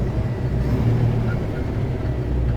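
Low, steady diesel engine rumble from a 2018-2019 Peterbilt truck with a 12-speed automated transmission, climbing a steep hill toward a stop sign with the throttle eased off; the drone holds close and even throughout.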